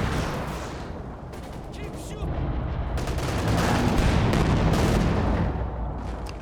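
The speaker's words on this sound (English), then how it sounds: "Conscript's going to get the anti-tank grenade off on it here" Battle in Company of Heroes 2 as a Soviet conscript's anti-tank grenade strikes a KV-1 tank: dense, continuous gunfire and blasts that swell louder partway through, with no voices.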